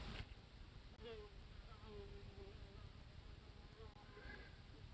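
A fly buzzes around, its thin drone faint and wavering in pitch as it moves, over quiet background hiss.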